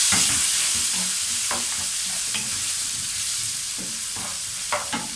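Ginger garlic paste and green chilies fry over low heat for bhindi masala, giving a steady close sizzle broken by scattered scrapes and taps of a spoon stirring the pan.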